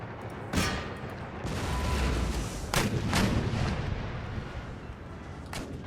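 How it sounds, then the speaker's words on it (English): Artillery cannons firing in Empire: Total War, the Austrian Empire in battle: a rolling series of heavy booms and sharp blasts, several shots overlapping amid a continuous rumbling battlefield din, no voices. "Okay, artillery is deployed. Let's get started."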